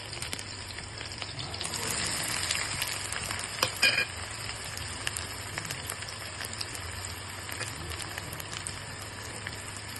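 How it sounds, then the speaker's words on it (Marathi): Garlic frying in hot oil in a pan, with onion to follow, giving a steady dense sizzle and crackle with a few brief louder spikes and no speech. "त्यासाठी मस्त तेल गरम करून घेतलेलं आहे, त्यामध्ये मी लसूण घालत आहे।"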